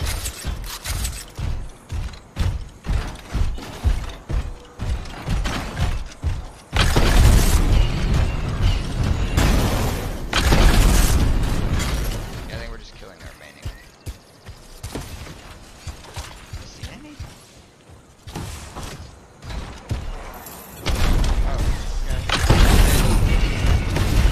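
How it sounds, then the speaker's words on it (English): A giant grenade launcher fires in the sci-fi shooter Anthem, producing heavy booming blasts and bursts over mechanical clanks and a dense game soundscape, loud and repeated with short gaps. "I pull out a giant grenade launcher."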